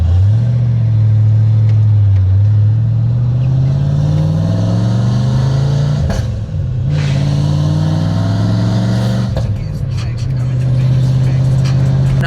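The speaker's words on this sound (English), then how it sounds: "First start up in the car, here we go." A loud Ford Mustang Foxbody engine with SLP Loudmouth exhaust dumps rumbles steadily with a deep, throaty exhaust, rising and falling as the throttle is blipped, with brief quieter dips between revs.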